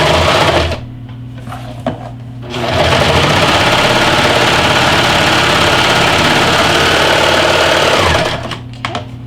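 A 4-thread serger overlocking the edge of fabric for a glasses case runs loud and steady in a continuous mechanical whir, stopping briefly at the start and end.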